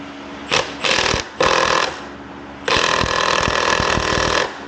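Bursts of harsh rattling from an impact or power tool loosening the axle of a Kawasaki Z900 motorcycle in a parking lot, three short blasts followed by a longer sustained run, loud and close.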